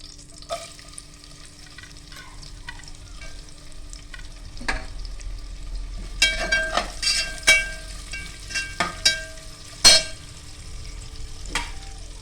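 Onion is frying in a pan, first as a quiet hiss and then louder, with bursts of crackling sizzle and sharp spatula clatters in the second half. No voice is present.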